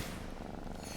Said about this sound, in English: There you go, you can hear the purr.